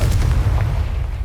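A Confringo fire spell goes off in the Hogwarts Legacy video game as a loud, deep, rumbling blast that fills the whole short moment with booming low-end energy.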